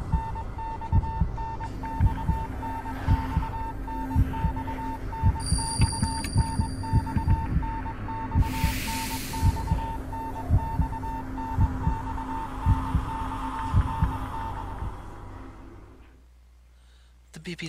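A steady electronic beeping in the horror video game Death Mark pulses repeatedly over a low throbbing, heartbeat-like hum, then cuts out abruptly near the end.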